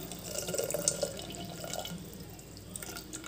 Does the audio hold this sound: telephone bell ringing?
no